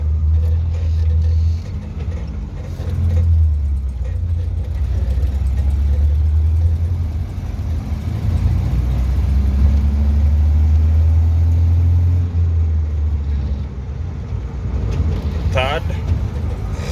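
A 1974 Citroën DS21, driven for the first time in years, runs with a steady low engine rumble that swells and dips as it moves through the gears, with a short high squeak near the end.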